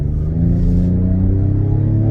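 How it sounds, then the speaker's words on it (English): Synthetic engine sound played through the cabin speakers of a 2025 Ford Explorer ST, a loud, steady, close low rumble with layered humming tones that rise slightly as if revving. "Ready for some fake engine noises?"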